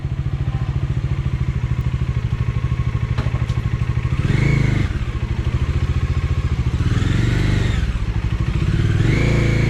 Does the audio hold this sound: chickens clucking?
no